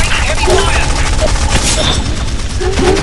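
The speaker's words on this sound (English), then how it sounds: "Somebody cover me! Taking heavy fire!" Heavy sustained gunfire from a video game fills the whole stretch, a dense continuous crackle of rapid shots at constant loudness with faint voice-like sounds mixed in.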